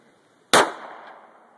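A single sharp report from an S&W 6904 pistol fired at a target outdoors, with the round striking the ground, followed by a short fading ring-out.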